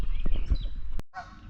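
Geese honk nearby in a rapid series of loud, overlapping calls, then a sharp click and a brief pause before more honking resumes, with a lakeside setting during bass fishing.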